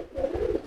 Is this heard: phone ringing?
no